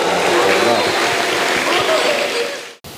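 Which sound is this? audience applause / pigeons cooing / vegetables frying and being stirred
audience applause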